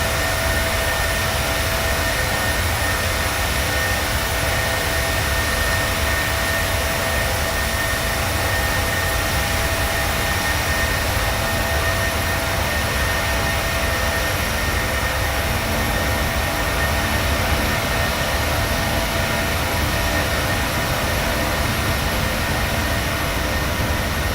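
Jet engines of a PMDG 737-600 in Microsoft Flight Simulator, climbing out of Tunis-Carthage, produce a steady, unbroken roar and whine that stays at a constant level throughout.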